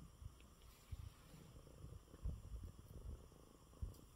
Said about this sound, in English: See, now he's purring.